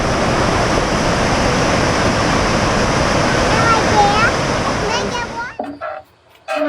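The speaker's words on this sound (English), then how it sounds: "It's a big waterfall." Loud, steady roar of Taughannock Falls, a large waterfall in New York, filling the scene, with a few faint voices briefly audible as the rushing water fades out at the end.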